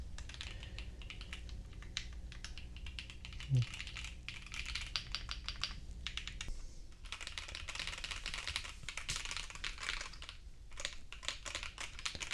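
Rapid clacking of keys being typed on a OnePlus Keyboard 81 Pro mechanical keyboard, steady bursts with short pauses, close up, with a low background hum.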